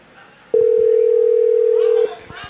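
A telephone dial tone sounds as a single steady, loud, pure hum for about one and a half seconds while a phone call is being placed, with faint voices in the background before and after.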